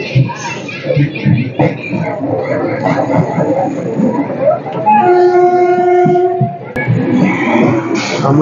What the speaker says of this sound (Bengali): ট্রেন একেবারে ঠিকঠাক টাইমে চলছে